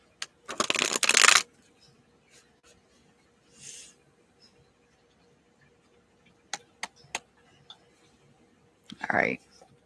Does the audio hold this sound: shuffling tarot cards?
yes